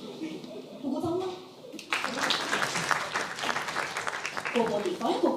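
Audience applause at a Chongqing dialect comedy show breaking out after a stretch of talk, a steady patter of clapping with voices continuing over it.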